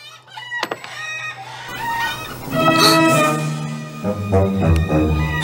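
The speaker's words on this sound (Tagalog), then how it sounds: "Nakawala ang mga alaga mong manok!" Chickens cluck loudly and close by, with excited rising squawks and a crowing call, several birds overlapping in a noisy burst.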